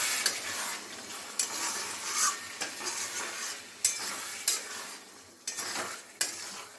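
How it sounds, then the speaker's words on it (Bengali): Onion and poppy-seed paste is stirred and mixed in a hot pan, with a steady soft sizzle and scraping strokes and several sharper clinks of the utensil against the pan, and nobody talking. "এটা ভালো করে মিশিয়ে নিতে হবে।"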